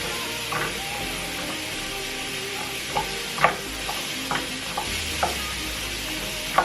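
Garlic and green beans sizzle steadily in a pan while a wooden spoon stirs them, the constant hiss broken by several sharp scrapes and clacks, close and alone.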